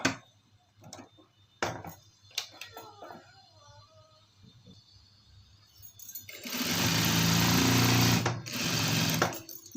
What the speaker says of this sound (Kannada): ಸೈಡ್ಸು ನೋಡಿ ಈ ರೀತಿ ಫೋಲ್ಡ್ ಮಾಡಿ ಸ್ಟಿಚ್ ಹಾಕಬೇಕು